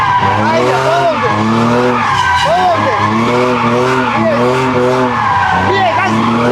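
A car drifts through a corner at full throttle during a drifting lesson, its engine roaring loud and steady with shifting revs while the tires squeal and skid continuously; a voice talks over it throughout.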